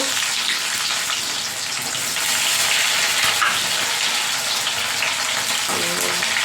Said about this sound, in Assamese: অলপ ভাজি ল'ম